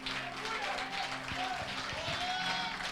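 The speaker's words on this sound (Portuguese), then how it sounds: "Você pode esvaziar suas mãos e dar um melhor aplauso aí para a palavra de Deus" A church congregation applauding during a Wednesday prophetic service in Sarzedo: sustained, even clapping from many hands fills the space throughout, with a few scattered voices mixed under it.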